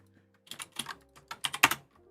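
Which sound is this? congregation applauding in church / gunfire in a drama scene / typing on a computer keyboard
typing on a computer keyboard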